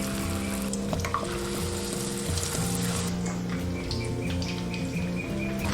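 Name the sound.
deep-frying batter-coated lotus root stuffed with meat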